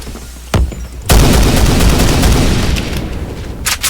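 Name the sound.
AUG rifle gunfire in video game Phantom Forces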